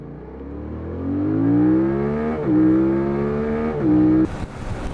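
Motorcycle engine pinned hard, revving up with rising pitch, briefly dropping between gear changes and climbing again, loud and close with wind rush at the end, no voices.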